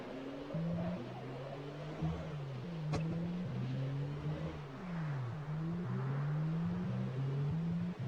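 A steady low car engine drone in the video game Project Zomboid, with wavering pitch rising and falling as if revving, continuous throughout with a brief click partway through.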